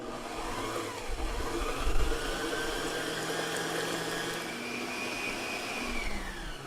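An electric mixer whirs steadily while beating egg yolks with sugar into a pale foam, a continuous close motor whine with shifting pitch sweeps and no talk.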